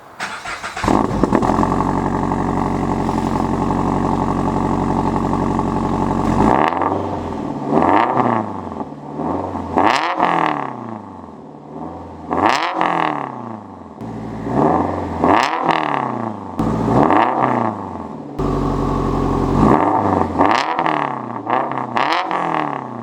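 Turbocharged Toyota GR86 or Subaru BRZ with exhaust valves left open, starting with a loud sustained idle drone, then repeated sharp throttle blips rising and falling in quick bursts, close and alone.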